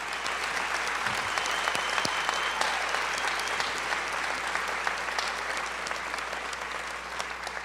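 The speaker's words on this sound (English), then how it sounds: "she deserves a round of applause" An audience gives a lead teacher a round of applause at the 2013 Healthy Schools Program Forum, a dense, steady wash of clapping that fills the whole stretch at even loudness with no voices over it.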